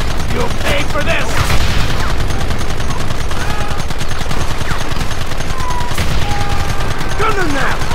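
Rapid gunfire rattles nonstop in the Western video game Red Dead Redemption, dense volleys of loud shots layered with ricochets and shouting voices.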